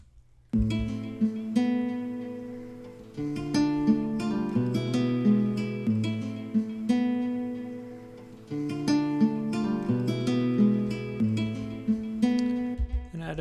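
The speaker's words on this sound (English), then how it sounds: "The first thing I started with was this guitar that I recorded" A self-recorded guitar, part of a sample, plays a repeating plucked melodic figure with bright, layered notes, moderately loud and continuous with brief gaps between phrases, heard alone without talking.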